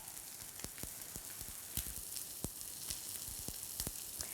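Sirloin steak frying in a pan gives a constant soft sizzle, broken by scattered sharp pops and spits of fat.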